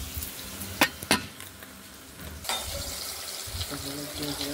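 Potato pieces frying in oil for a Bengali koi fish curry give off a steady, moderate sizzle, with a couple of sharp clatters early on and a fuller hiss in the second half.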